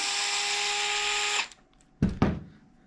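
A power screwdriver whirs steadily with a high-pitched motor whine for about a second and a half, pulling a screw from an RC car's steering hinge, then stops; two short clunks of parts being handled follow.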